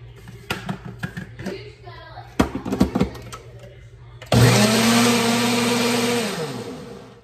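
After some clattering and handling noises with brief talk, a blender mixing green salad dressing starts up loudly and whirs steadily, its motor pitch dipping slightly as it runs.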